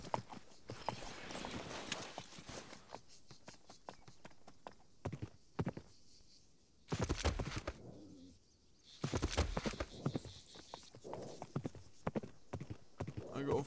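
Horse hooves clip-clop in rapid, irregular bursts in a multiplayer siege battle video game, moderately loud with gaps and sudden thuds, mixed with bird-like cooing and speech.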